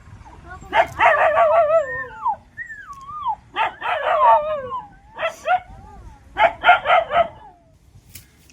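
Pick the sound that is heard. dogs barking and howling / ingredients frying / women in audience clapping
dogs barking and howling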